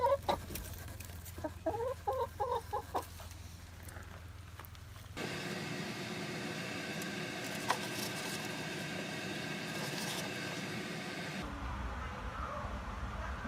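A farmyard hen clucks softly nearby in a coop during an icy winter storm while her eggs are collected. A few short clucks come early and are then lost under steady wind and crunching movement.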